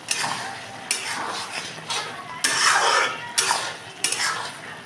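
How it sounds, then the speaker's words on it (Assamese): A utensil stirring cooking food in a pot for a homemade matar paneer with potatoes, with repeated scraping and clattering strokes against the pot and a soft sizzle underneath, close up and without speech. "এইখিনি এতিয়া ধুনীয়াকৈ লৰাই দিলোঁ"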